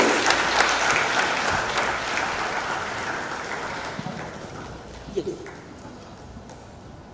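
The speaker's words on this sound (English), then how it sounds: "Please keep clapping." Audience applause at a College of Engineering alumni event at KNUST, a steady broad wash of clapping that fades gradually over several seconds, with a few faint voices near the end.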